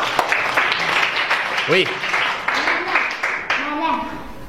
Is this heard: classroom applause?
yes